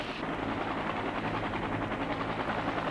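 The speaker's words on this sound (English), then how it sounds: "Hour after hour, helicopters continued picking up loads of evacuees." Helicopters carry loads of evacuees during the final American evacuation from Vietnam around 1975, their rotors a steady, moderately distant whirring roar heard alone on an old documentary recording.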